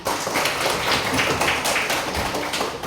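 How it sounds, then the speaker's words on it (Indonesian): Classroom of pupils clapping hands together in a brief group clap, a dense steady patter of many hands close by, lasting throughout. "Tepuk tangan."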